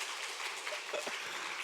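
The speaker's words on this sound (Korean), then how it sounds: "박수 한번 하겠습니다" A church congregation at an early-morning prayer service claps together, a soft, even patter of applause that sounds faint and fairly distant.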